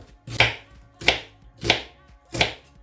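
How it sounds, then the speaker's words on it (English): A knife chops onions on a board with four evenly spaced, crisp thuds about two-thirds of a second apart, close and clear with no talking. "chop onions"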